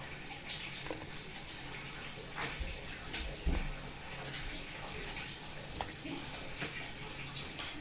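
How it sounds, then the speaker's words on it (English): Cold water runs and splashes steadily as it is drained off potatoes into a kitchen sink, a soft continuous gush with a few small clunks. "So now I'm draining off the cold water."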